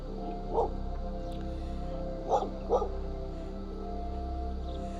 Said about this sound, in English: The dog was barking.